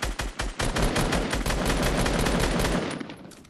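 A minigun in the video game Fortnite fires rapid sustained bursts, a dense loud stream of shots that starts choppy and then runs continuously before trailing off.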